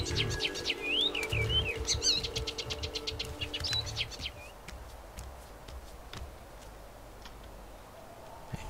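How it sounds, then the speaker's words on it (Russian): Bird chirping and trilling in a quick run of calls, fairly close and clear for about four seconds, with tonal whistles and warbles, then fading to sparse faint ticks over a low background hum. "Плохая птичка. Очень плохая."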